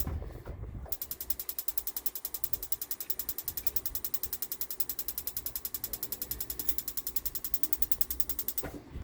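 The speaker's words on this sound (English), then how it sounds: "We're going to turn the button on the right hand side on, which is also your igniter for the top." The igniter button on a 2022 Forest River Salem FSX Platinum 270RTKX toy hauler's RV stove clicks in a rapid, steady series of sharp ticks for several seconds, close and alone.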